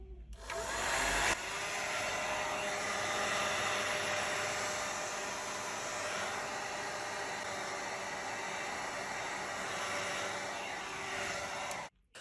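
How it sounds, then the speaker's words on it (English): A heat gun or hair dryer heats the back panel of a Google Pixel phone, a loud steady airy whoosh that starts abruptly and runs almost without change for about eleven seconds before cutting off. "Use a heat gun or hair dryer to heat up the surface of the back panel."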